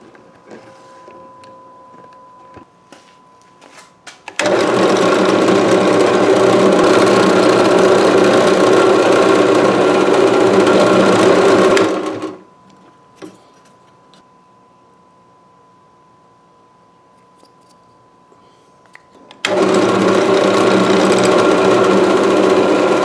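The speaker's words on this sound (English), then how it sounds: "So I'm just going to drill that." A power drill bores a screw hole into a wooden block, running in two loud sustained bursts with a quiet pause between them.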